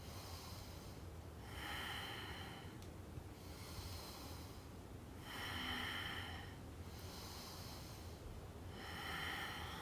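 Deep, rhythmic breathing during a core-strength yoga practice, with airy inhales and exhales alternating steadily at close range and no talking.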